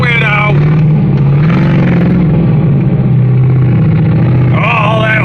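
A car's engine hums and revs steadily throughout a ride with the Black Widow, loud and close, with people talking over it.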